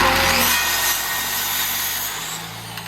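A small power saw cuts through wood with a steady, gritty buzz, its motor pitch shifting slightly as the blade works.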